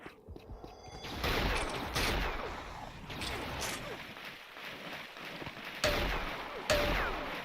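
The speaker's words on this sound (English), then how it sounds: "Two well-placed sniper shots there." Sniper rifle shots in Unreal Tournament 99 during a 2v2 match: a few sharp, loud cracks spaced seconds apart over constant in-game background noise, with a voice faintly audible.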